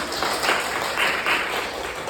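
An audience at a university guest lecture on Islamic museums claps together in a brief, dense burst of applause, fairly close and continuous.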